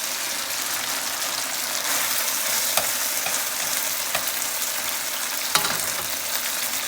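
Chicken and leek stir fry sizzling steadily in a hot pan with cooking wine, a continuous hiss with a few faint clinks of stirring, no voices.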